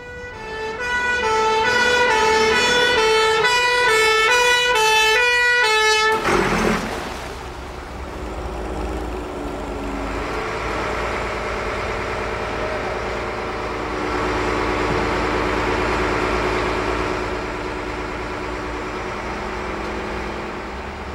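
Fire engine wailing its siren with clear repeating up-and-down tones, then cutting off to leave a loud, steady rumble of the truck's idling engine close by, with no voices.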